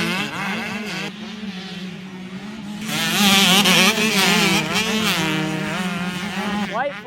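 Two-stroke dirt bikes racing in a motocross event, engines buzzing and revving loudly with a rising surge of acceleration midway, one bike near and dominant over a steady engine drone.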